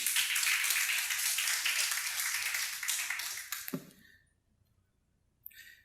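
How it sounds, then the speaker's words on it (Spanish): A church congregation claps together in steady, loud applause for almost four seconds, then it cuts off sharply into near silence. "Un aplauso al Señor."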